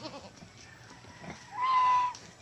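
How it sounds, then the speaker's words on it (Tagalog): A four-horned goat on a farm gives a single bleat near the end, fairly close and clear over a quiet farmyard background. "Yan ang kambing na 4 ang sungay."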